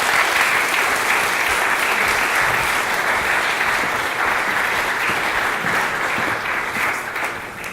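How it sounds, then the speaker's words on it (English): Steady, dense applause fills the room from an audience at the end of a history lecture, loud and continuous for several seconds before it thins slightly near the end. "Let's give them a round of applause for that."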